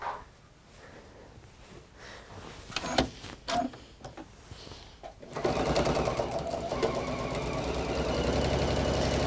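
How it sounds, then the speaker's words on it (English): A sewing machine stitching down both sides of a piece of fabric, starting after some quiet handling clicks and rustles, then whirring steadily and loudly at speed through the second half. "So we'll stitch down both those sides there for now."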